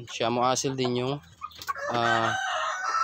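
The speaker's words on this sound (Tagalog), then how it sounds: "Tumitilaok na siya." A three-month-old Asil rooster crows twice, close and loud, each crow a long harmonic call, with brief speech between the crows.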